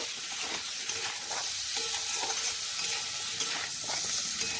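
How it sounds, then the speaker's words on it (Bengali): Vegetables stir-frying in a pan with green chilli, salt and turmeric give a steady, close sizzle, with scraping strokes from stirring recurring every second or so throughout. "এবার নেড়ে চেড়ে ভালো করে ভেজে নেব"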